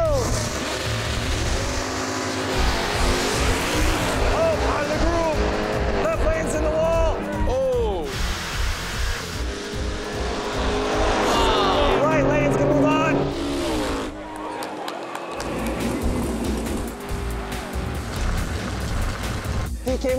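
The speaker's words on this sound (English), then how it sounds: "Jason Winchester's finely tuned 650 horsepower 91 Mustang is out to show Eric Strom's 89 Dark Block LX." A finely tuned 650-horsepower 1991 Ford Mustang drag racing down the track at Maple Grove Raceway, with a loud roaring engine that rises and falls through gear changes, heard under crowd noise and an announcer talking.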